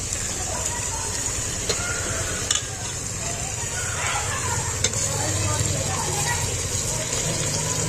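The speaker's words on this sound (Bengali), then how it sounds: "এবার আমি নাড়তে চাড়তে থাকবো।" Meat frying in a pan and being stirred, a steady close sizzle with scraping strokes and occasional clicks throughout, no voices.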